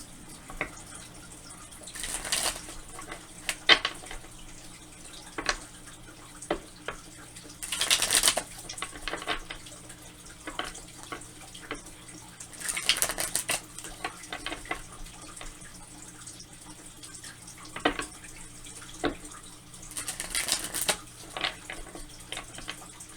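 Tarot cards are shuffled by hand in quiet, short riffling bursts that repeat several times with pauses between them, close and soft.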